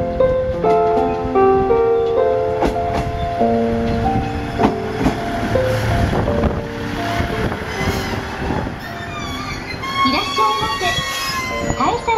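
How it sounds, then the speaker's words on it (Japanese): An up train arrives at Kaesa Station on the JR East Iiyama Line, its rumble and rail noise running steadily throughout, mixed with a station melody, wind noise and a platform announcement. "まもなく、上り列車が参ります。"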